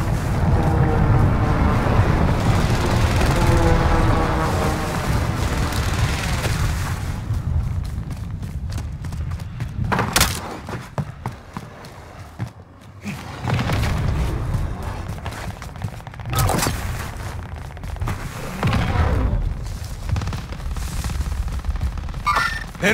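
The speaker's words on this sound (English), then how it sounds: "Allied precision airstrike incoming." Allied precision airstrike in the Call of Duty Warzone video game: heavy rumbling booms and sharp blasts over a continuous roar of wind and engine noise, loud and sustained, with several distinct impacts spread across the stretch.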